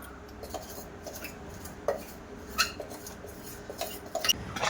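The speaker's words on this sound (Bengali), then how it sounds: "ডিম আর চিনিটা বেশ ভালো করে মিশিয়ে নেব" Eggs and powdered sugar with cardamom are beaten in a bowl for homemade biscuits, with irregular light clinks and scrapes of a utensil against the bowl, close and moderately loud.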